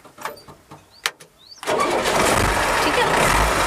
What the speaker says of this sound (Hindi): और बस स्टार्ट करना है।